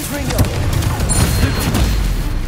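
Spell effects in Hogwarts Legacy on PlayStation 5, a dense stream of booming blasts and crackling impacts over game music, with a voice calling out incantations throughout.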